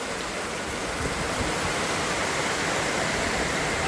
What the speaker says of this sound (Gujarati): વરસાદ ખતરનાક ચાલુ છે